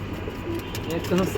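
Pigeons of imported bloodlines cooing nearby, soft low repeated coos with a murmur of voices in the background.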